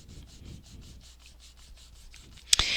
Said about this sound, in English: So just take some card and give it a really good burnish.